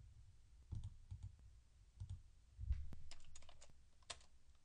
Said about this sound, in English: Then I'm going to type control D